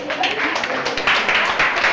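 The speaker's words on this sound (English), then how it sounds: "Please clap for her." An audience at a career service center event claps for a woman who offers free business lessons, a steady patter of many hands, moderately close, with speech over it.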